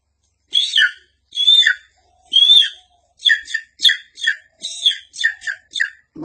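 A performer's voice mimics chicks calling, a run of short high-pitched peeping chirps, first spaced then quicker and clustered, close and clear against silence.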